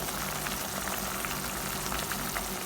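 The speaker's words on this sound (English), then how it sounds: "I'll be adding my fish now at this time." Fish fillet going into a simmering pot of Jamaican brown stew, giving a steady close bubbling sizzle that holds throughout with no talk.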